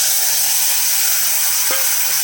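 Water poured with dried mango into a hot frying pan of okra and fish curry gives a loud, steady sizzle and hiss with a brief bubbling pop near the end.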